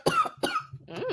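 Two sharp, close coughs from a single person in quick succession, followed by a short throat-clearing rasp.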